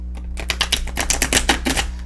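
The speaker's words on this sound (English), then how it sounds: "So I'll shuffle the cards" Tarot cards being shuffled by hand, a rapid run of crisp, clicking riffles that rattle on for about two seconds, close and fairly loud with no talking.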